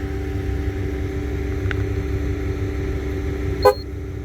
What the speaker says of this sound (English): I will approach front left tire and scan near the sensor